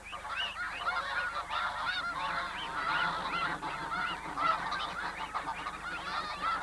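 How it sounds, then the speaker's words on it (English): A flock of wild geese caught under a capture net honks continuously, a dense overlapping chorus of calls at moderate distance with no pauses. "Once under the net, the geese soon calm down."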